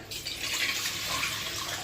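Water pours steadily into a pressure cooker that holds a stand for an egg dish, making a continuous close rushing splash throughout with no voices.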